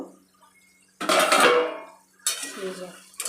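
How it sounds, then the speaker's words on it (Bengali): A metal lid comes off a pan of okra cooking dhaba style, giving two close, clattering metallic bursts with a ringing tail, separated by a short lull, with a little faint speech. "এবার আমি ঢাকাটা খুলে দেখে নেব।"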